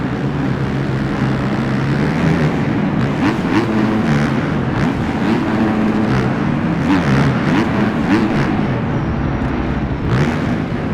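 A dirt bike engine in the MX Bikes video game runs through a whoop section, a loud continuous buzzing drone that rises and falls in pitch as the throttle opens and closes over the bumps.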